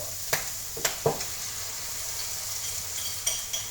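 An omelette mixture is poured into a frying pan holding mushrooms and bacon, giving a soft continuous sizzle with a few sharp utensil taps, close and without speech.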